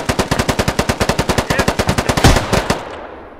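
A machine gun in the video game Squad fires a rapid, evenly spaced burst of about two dozen loud, close shots, then stops abruptly, leaving a brief fading tail.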